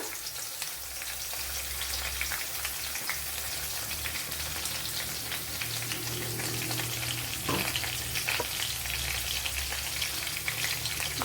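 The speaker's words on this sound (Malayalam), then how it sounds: "അതിലേക്ക് ഈ ക്രഷ് ചെയ്ത വെളുത്തുള്ളി ഇഞ്ചി പച്ചമുളക് ഇട്ട് കൊടുക്കുക" Crushed garlic, ginger and green chili fry in coconut oil for a home-style chicken curry, giving a steady, even sizzle throughout with a brief clatter partway through.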